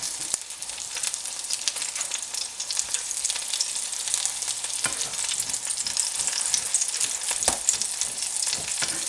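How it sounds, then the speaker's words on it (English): Chicken and broccoli fritter patties fry in an oiled pan, a close, steady crackling sizzle with scattered sharp pops and spits throughout, no voices. "Cook the patties on each side until nicely golden brown."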